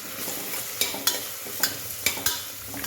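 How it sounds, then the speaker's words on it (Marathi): Chopped onion with ginger-garlic paste sautéing in a cooker for pav bhaji, a steady soft sizzle broken by several sharp spoon scrapes and taps against the metal, close and moderately loud with no talking. "बारीक चिरून घेतलेला हा कांदा घालून परतून घेऊया"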